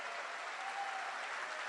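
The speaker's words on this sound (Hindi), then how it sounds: "जोरदार ताली" An audience at a business presentation gives steady, dense applause, a brief continuous burst of clapping without talk.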